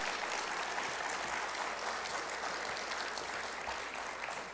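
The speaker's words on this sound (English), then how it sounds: "So how about a round of applause for the panel?" Applause for a veterans' opportunity panel, an even wash of audience clapping filling the room for several seconds, fairly soft and distant, tapering slightly at the end with no talk.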